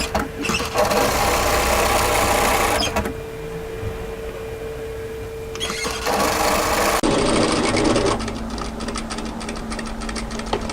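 A sewing machine runs in steady bursts along a kimono kaftan seam, with a short pause partway through before the stitching resumes close and even.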